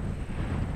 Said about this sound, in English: We got a 20, 25 mile an hour wind here.